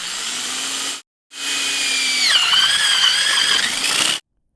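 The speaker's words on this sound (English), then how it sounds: "Now use your 1-inch bit and just stand on the 2 pipes to hold it down and begin drilling." A power drill with a 1-inch bit bores into a PVC pipe coupler, a loud steady whine with a brief pause, then restarts and drops to a lower squealing pitch as the bit bites into the plastic.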